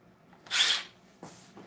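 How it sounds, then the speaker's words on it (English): A power drill drives an 8-inch half-inch Spax screw in two quick bursts, the first louder and longer, the second shorter, heard close with no talking. "We're going to run it"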